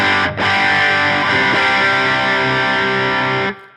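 Electric guitar through stacked amp-in-a-box overdrive pedals, a sustained distorted chord rung out loud and thick with harmonics after a brief pick attack, ringing steadily before being cut off.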